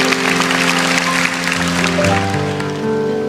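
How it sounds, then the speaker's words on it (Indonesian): A church congregation applauds during a sermon, a dense wash of clapping blended with sustained music tones for a few seconds. "Kasih tepuk tangan untuk Tuhan kalau Anda setuju."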